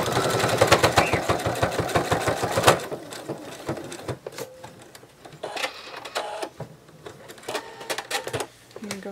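A sewing machine sews a penguin plush, first in a steady, fast rhythmic run up close, then in shorter, quieter bursts with handling noise between them.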